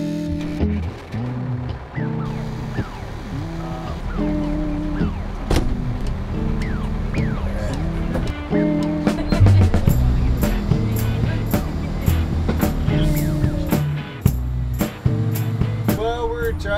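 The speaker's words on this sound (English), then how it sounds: "I'm driving a bus that's been converted to vegetable oil." A bus converted to run on vegetable oil drives into downtown LA, its engine rumbling and clattering through the cab, with knocks and rattles over the drone.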